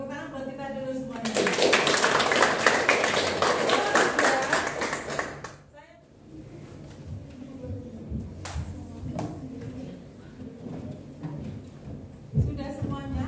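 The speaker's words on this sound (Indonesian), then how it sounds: "Tepuk tangan buat kita dulu semuanya." Audience clapping at a school teachers' dissemination session on positive culture: a loud, dense burst of applause lasting about four seconds, then it cuts off and people talk over quieter room noise with a few scattered taps.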